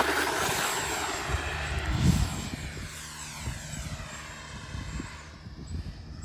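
A small FMS F-16 Thunderbird 64mm electric ducted-fan RC jet flies past outdoors with a steady, airy whine that swells briefly, then fades slightly as it moves off.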